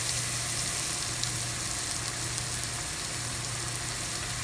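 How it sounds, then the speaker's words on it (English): Spices for malai kofta fry in a hot pan with a steady, close sizzle that holds even and unbroken throughout, with no voices. "Just mix it once so that nicely it's fried."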